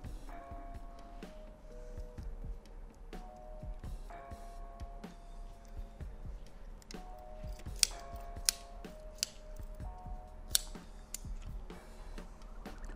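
Safety-wire pliers twisting lockwire on a motorbike handlebar grip, a close, quiet stream of small metallic ticks and scraping clicks, with a few sharper snaps near the end over a faint low hum.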